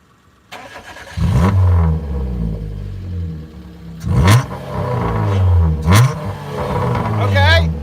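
A Honda Insight ZE1 or Suzuki Wagon R with a damaged, muffler-less exhaust idles roughly, then gets blipped in several short, loud revs that rise and fall close by, with people talking between them.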